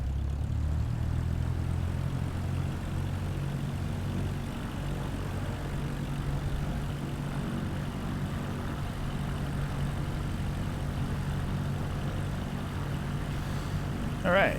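A propeller aircraft in Microsoft Flight Simulator 2020 holds a steady, loud, low engine roar throughout the takeoff, with a faint voice talking underneath.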